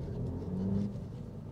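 A 2022 Volkswagen Polo GTI engine while driving, a steady low hum and rumble that swells briefly in the middle as if under light acceleration, heard from inside the car with no talk.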